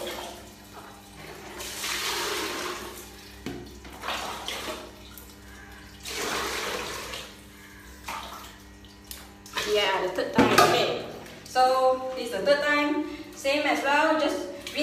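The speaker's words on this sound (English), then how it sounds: "Same as well, just rinse the pants up and down." Pants rinsed by hand, pushed up and down in a basin of water, giving repeated sloshing and splashing bursts that come and go in an uneven rhythm, with a person talking between and over them.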